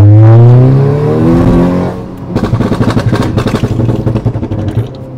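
A Volkswagen Golf's engine revs hard and loud up close, then settles into a rapid, rhythmic string of sharp exhaust pops and crackles while driving.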